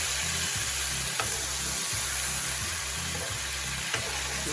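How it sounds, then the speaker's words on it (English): Oil sizzles and pops steadily in a pan as sweet red and orange peppers fry, a dense continuous crackle close up with a couple of sharper pops and no talking. "When you hear that oil beads popping like that."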